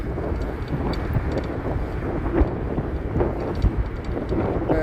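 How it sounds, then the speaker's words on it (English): Strong gusting wind roars across the microphone during a bike ride in Chicago, a steady low rumble with bursts of buffeting. "We got wind. Welcome to the Windy City."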